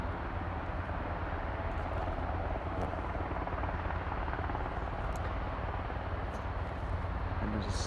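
A CHC helicopter at Aberdeen airport gives off a steady rotor and engine roar in the open air, heard at a moderate distance with a constant, even drone and faint wind, with no clear talk.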